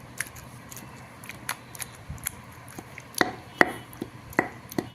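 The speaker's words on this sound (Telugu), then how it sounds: "ఇప్పుడు మనం ఎక్కువ సాల్ట్ వేసుకొని దంచుకున్నట్లయితే చక్కగా మనకు పచ్చడిగా పడుతుంది." Tomatoes pounded with salt in a stone mortar for chutney: irregular sharp knocks and thuds, close and fairly soft, building to a few louder strikes toward the end.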